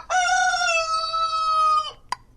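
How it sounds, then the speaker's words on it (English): A rooster-crowing alarm ringtone sounds on a phone as one long, loud cock-a-doodle-doo, followed by a brief click in otherwise quiet surroundings. "Cock-a-doodle-doo."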